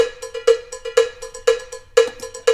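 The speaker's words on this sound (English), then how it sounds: "more cowbell. That sounds like fun." A cowbell clanks in a steady, driving rhythm with quick extra hits between the main beats, bright and close with no voices, looped on a Headrush Looperboard.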